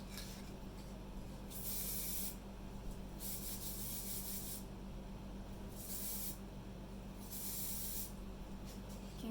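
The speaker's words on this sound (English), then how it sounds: "So I just want to give the spray to absorb, some time for the spray to absorb into the flower." Aerosol spray hisses onto dried daffodils in four separate bursts, each about a second long and evenly spaced, close and fairly loud over a quiet background hum.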